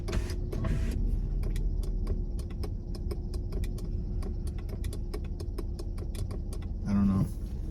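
A car's power window switch is clicked over and over in quick, even taps while a steady low hum runs underneath; the window is faulty and won't go down.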